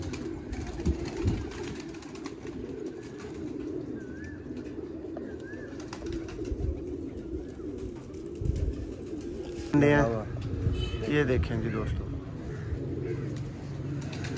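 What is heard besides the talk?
pigeons cooing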